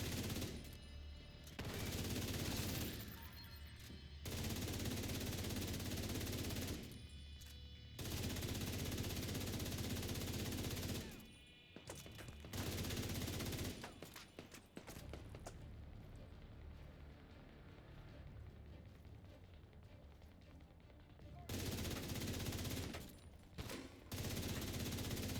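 Bursts of automatic gunfire in The Division during the Manning National Zoo legendary mission, loud sustained volleys broken by short pauses, with no talking.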